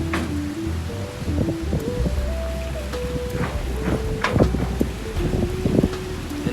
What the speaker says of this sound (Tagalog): Malakas na yung hangin dito,